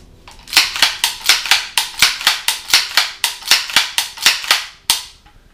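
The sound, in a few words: airsoft pump-action shotgun being racked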